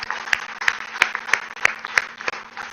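Rhythmic claps for the Skyroot rocket team at a launch success meet, regular sharp beats about three per second over a faint steady hum, with no voices.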